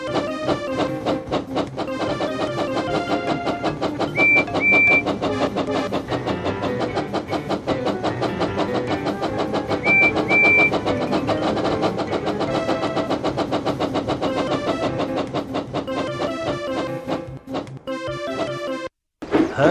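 Steady engine rumble of Percy the small train engine racing away in a Thomas and Friends game, a continuous pulsing drone with a few brief beeps and game tones, cutting off abruptly near the end.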